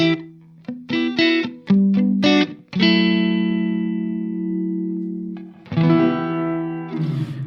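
Dry electric guitar played through a Hologram Microcosm pedal with reverb switched off: a few quick plucked notes, then a sustained chord ringing out and decaying, followed by another strummed chord near the end, close and clear.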